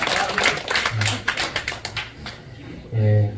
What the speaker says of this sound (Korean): 우리 축복의 박수로 함께 격려의 박수,